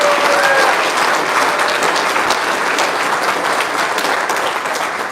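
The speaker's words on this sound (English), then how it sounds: "Let's give them a huge round of applause for their hard work." Loud, sustained applause from a crowd at a county fair opening ceremony, dense, even clapping filling the whole stretch with no pauses and no voices.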